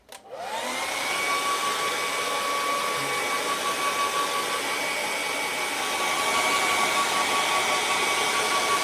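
A hair dryer blows steadily and close up over a wet watercolour footpath in a moonlit mountain scene, a loud continuous whoosh with a fixed whine that starts abruptly and holds for the whole stretch.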